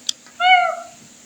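A cat gives a single clear, close meow that lasts about half a second, preceded by a tiny click against a quiet background.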